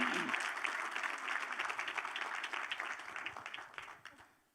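A crowd at an alumni farm-to-table brunch claps steadily in a dense, sustained round of applause that slowly thins and fades out near the end.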